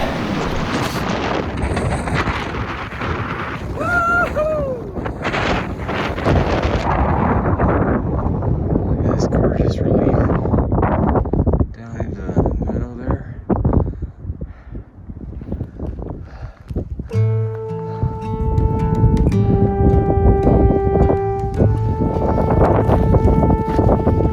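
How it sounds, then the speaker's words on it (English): Strong wind gusts buffet a microphone high on a Colorado fourteener mountain, a loud rumbling roar that rises and falls, with a person talking through parts of it. "weather's supposed to be really dry and clear, but the wind is going to be wicked today"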